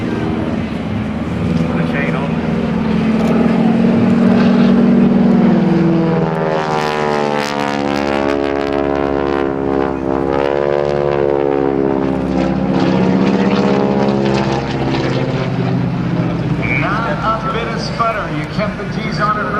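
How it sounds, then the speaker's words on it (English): A propeller aircraft performing at the Blue Angels homecoming airshow, engine drone rising and sweeping past as it flies inverted, with an announcer talking over it throughout. "let's watch and listen as we might hear the engine sputter"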